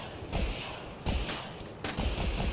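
Jet rocket pods fire in Battlefield 2042, three loud whooshing bursts spaced about a second apart over a continuous engine roar.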